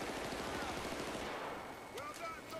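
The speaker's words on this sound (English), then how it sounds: "I killed the guy by shooting him in the legs." Automatic gunfire in the Battlefield Bad Company video game, a dense steady burst of rapid shots that fades out halfway, leaving quieter game ambience with a few faint high pings.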